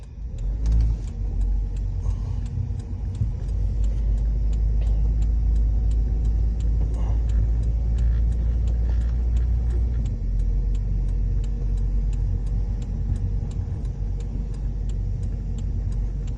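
Steady car engine rumble while driving on a road during a driving lesson, a continuous loud low drone with occasional revving, and no talk over it.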